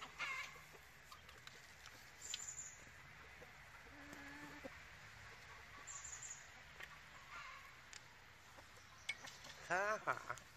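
Chickens cluck softly and intermittently nearby in a garden, with a few brief squawks over a quiet outdoor background.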